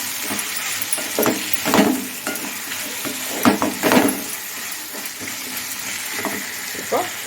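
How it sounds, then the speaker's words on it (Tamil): Grated coconut being sautéed in a pan for sundal kulambu, a soft sizzle under repeated scraping and stirring strokes of a spoon, with occasional metallic clinks against the pan. "இப்போ இது கூட நம்ம வந்து தேங்காய் போட்டுக்கலாம். சும்மா ஒரு வதக்கிட்டு போட்டால் போதும்."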